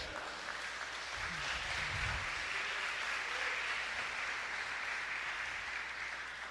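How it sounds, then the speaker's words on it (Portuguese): Church audience applauding, a steady wash of clapping held at an even level throughout, with a low murmur of voices underneath. "Você pode aplaudir o Senhor?"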